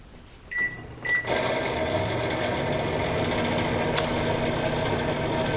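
A home microwave oven runs with a horrible, loud, steady droning rattle and hum, preceded by a couple of short clicks or beeps as it starts.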